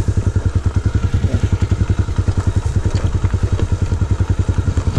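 A lowered motorcycle's engine thumps steadily and loudly while the bike rattles and clatters over a rough road of large rocks, close up with no talking.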